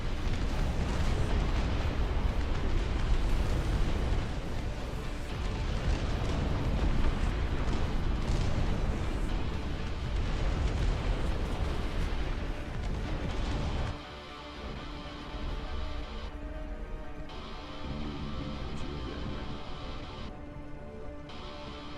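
Airstrike explosions in the real-time strategy game Dust Front RTS, a dense, continuous roar of overlapping blasts and booms for most of the stretch, then easing into quieter rumbling battle noise.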